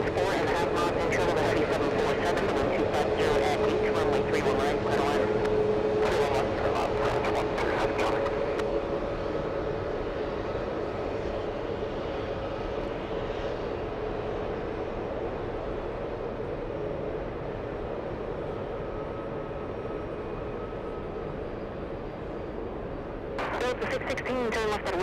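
At JFK airport, an airplane roars loudly on its takeoff run, then the roar fades away into the distance.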